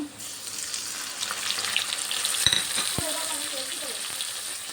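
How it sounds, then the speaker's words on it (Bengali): Onions fry in hot oil with ginger-garlic paste for a goat mutton curry, giving a steady close sizzle throughout, with a couple of sharp utensil knocks against the pan midway. "এবার লাল করে ভেজে নেব। পেঁয়াজটা লাল করে ভেজে নিয়েছি।"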